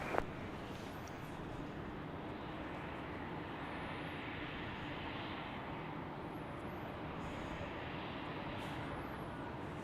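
A United Airlines Boeing 737-900 departing Salt Lake City airport for Denver, a steady broad jet engine roar sustained throughout, moderately distant, with faint bird chirps and no talking.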